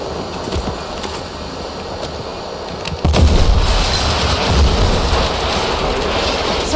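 A C4 charge blows up an enemy gun in Battlefield 6, with one loud, deep blast at about three seconds followed by a rumbling, crackling roar of debris and battle noise.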